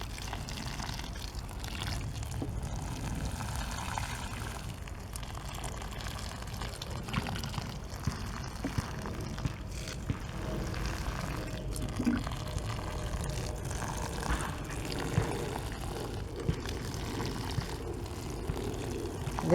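Steady watering of potting mix in herb seed pots makes a low, continuous splashing trickle with faint drips, close by and uninterrupted, with no talking.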